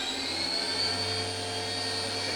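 Fadal CNC vertical machining center spindle running at 3,500 RPM, a steady high whine with a constant low hum, close and continuous throughout.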